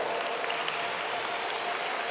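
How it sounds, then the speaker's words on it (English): Audience applause at a graduation ceremony, a steady wash of many hands clapping from a sizable crowd, continuous throughout. "now they deserve an applause"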